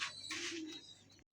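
Pakistani Danish pigeons in a cage give one soft, low coo, faint and close, ending in a brief silence.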